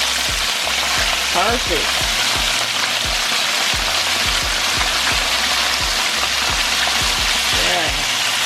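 Mustard-coated chicken drumsticks fry in hot oil with a dense, continuous sizzle close up, punctuated by repeated clacks of utensils turning the pieces, while a person speaks briefly.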